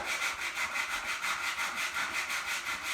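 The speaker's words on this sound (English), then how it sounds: "I'll try just lightly sanding. I've got, well, it's 80 grit sandpaper" Sandpaper of 80 grit rubs lightly back and forth over a clear wood top coat in a steady, rhythmic rasp, close up and alone.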